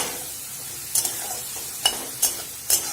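Small chicken pieces cooked down in their own released juices, a low steady sizzle punctuated by four sharp spoon strokes against the pan, spaced roughly a second apart.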